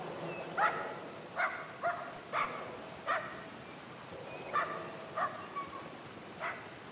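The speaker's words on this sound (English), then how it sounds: "Dog?" A dog barks in the video game Somerville, about ten short separate barks and yips at uneven intervals, clear and moderately near over a faint ambient hum.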